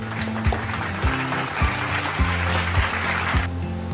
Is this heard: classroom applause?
yes